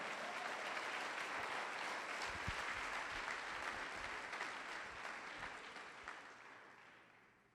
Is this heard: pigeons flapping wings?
no